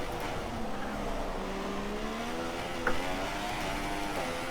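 Race car engine in the F1 2016 video game at Baku, a continuous whining note rising and falling as the car oversteers, with a brief tire squeal partway through, no talking.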